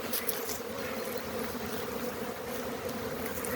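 Honey bees buzzing at an apiary in early spring, a steady dense hum of many insects flying around the hives, continuous and fairly faint with no talk.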